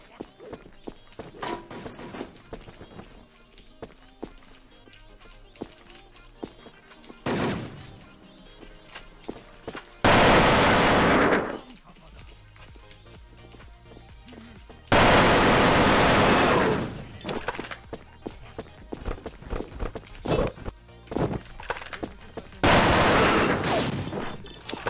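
Bursts of gunfire from a weapon in the online shooter WolfTeam, loud broadband blasts in several separate volleys with quieter clicks and shuffling between them, no talking.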